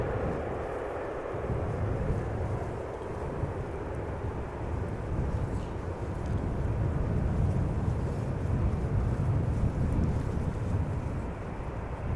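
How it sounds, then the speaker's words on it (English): An EasyJet Airbus A319 arriving from Venice, a broad, steady jet roar that swells gradually, heard from a distance with wind noise and no talk. "This was an A319 from EasyJet arriving from Venice in Italia."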